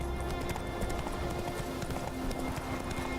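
Roach the horse galloping in The Witcher 3, a steady rapid clip-clop of hooves over continuous ambient game sound, loud and close throughout.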